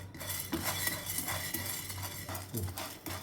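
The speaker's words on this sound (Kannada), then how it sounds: "ಫಸ್ಟು ಬೇಳೆ ಹಾಕ್ತಾ ಇದ್ದೀನಿ ಆದಷ್ಟು ಲೋ ಫ್ಲೇಮಲ್ಲಿ ಹುರ್ಕೊಳ್ತಾ ಇದ್ದೀನಿ ಬೇಳೆ" Lentils dry-roast in a pan over a low flame, stirred with a metal spoon: light scraping and clinking of utensil against pan with a soft rustle of grains, close and fairly quiet, in short irregular strokes.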